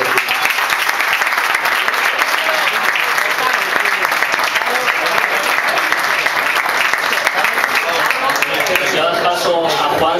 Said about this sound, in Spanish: espero que os suméis conmigo a un fuerte aplauso a toda la gente